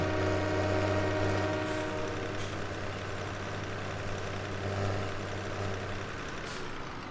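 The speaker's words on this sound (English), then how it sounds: "Here's the old noon freight train." Freight train in Farming Simulator 17, a loud steady low engine drone with a constant hum that holds evenly for several seconds before easing off near the end.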